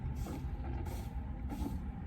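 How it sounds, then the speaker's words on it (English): A parking lot sweeper truck runs close by with a steady low engine drone and a brushing hiss that swells in regular surges. "He's sweeping up the parking lot."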